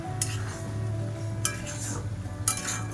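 A curry is stirred in a pot over a high flame as its gravy thickens. Steady sizzling runs underneath three quick utensil scrapes against the pot.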